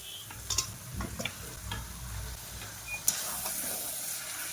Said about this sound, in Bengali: মাংস আর মশলাকে কিছুক্ষণ কষে নেব।